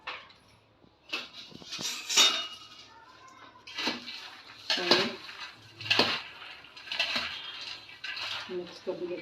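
Sabudana chivda with potato chips tossed in a metal pan, producing repeated rattling scrapes and clinks of dry fried pieces and spoon against the pan, with someone talking in between.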